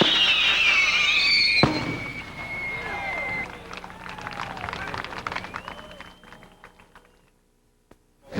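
Fireworks at a 1988 pyrotechnics convention burst and crackle outdoors, a loud opening blast followed by scattered popping and whistling that thins out and fades to near silence, with crowd voices beneath.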